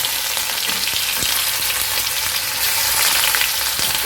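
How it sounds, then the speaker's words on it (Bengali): Grated onion frying in leftover egg-frying oil in a wok over a medium-low flame, giving a loud, steady, close sizzle that runs unbroken throughout, with no voices. "এবার কড়াতে এই ডিম ভাজার তেলের মধ্যে আমি যে পেঁয়াজটা গ্রেট করে রেখেছি"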